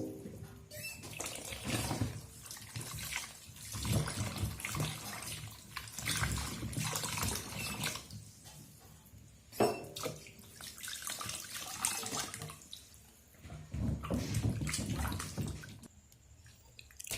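Coconut pieces are washed thoroughly in water, with repeated bursts of splashing and running water and quieter pauses between them, fairly faint and close.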